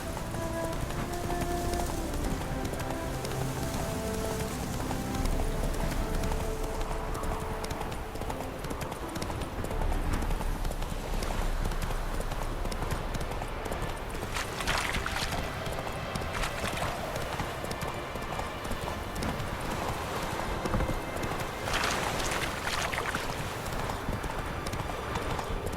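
Roach, a horse in The Witcher 3: Wild Hunt, gallops with continuous rhythmic hoofbeats throughout, close and steady, with a brief neigh and some ambient game sound layered underneath.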